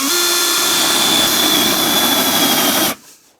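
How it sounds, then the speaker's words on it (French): A power drill set to drilling mode bores a hole for a Festool Domino-style dowel, a loud steady whine running close up for about three seconds before cutting off abruptly. "Et si je perçais en vitesse perçage."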